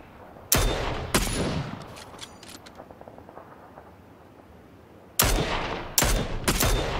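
Gunfire in the PUBG battle royale game: two loud sharp shots close together, a quieter stretch of faint distant pops, then three more loud shots near the end, with no talking.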